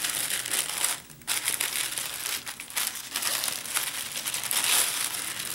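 Paper is unwrapped and crinkled up close, a steady run of crackling, rustling and crumpling noises with brief pauses and no voices.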